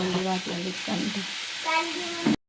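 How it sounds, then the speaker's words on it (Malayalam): Sliced onions sauté in a pan for Thalassery dum biryani masala, giving a soft, continuous sizzle close by. Intermittent talking sits over the frying. "നമ്മളിത് മസാല ഉണ്ടാക്കാൻ വേണ്ടിയിട്ട് ഉള്ളി വാട്ടിക്കൊണ്ടിരിക്കുകയാണ്"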